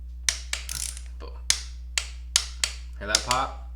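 A spark plug coil pops into place on a Mercedes SLK engine, heard as a series of sharp, close clicks and snaps spaced about half a second apart over a low steady hum.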